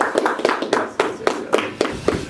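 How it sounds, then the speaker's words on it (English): A small group gives a brief round of applause, sparse distinct hand claps in a loose rhythm, close and fairly loud. "Round of applause."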